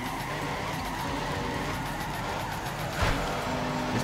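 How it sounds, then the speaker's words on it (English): A Nissan S15 drift car in the Torque Drift game, its engine droning steadily with tire squeal and skidding, plus a brief louder burst near the end, with no talk. "going to be using this car probably some more now that they adjusted the tune for it"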